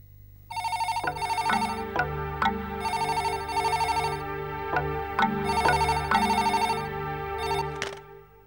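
A telephone rings on the other end of the line, repeating tones in a steady rhythm through several cycles, with soft clicks between them.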